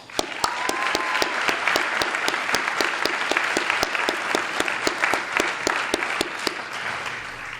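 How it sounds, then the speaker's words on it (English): An audience at a high school Black History Month celebration breaks into sustained applause, many hands clapping with a few sharp, prominent claps near the microphone, the ovation steady for several seconds before tapering slightly. "give yourself some applause"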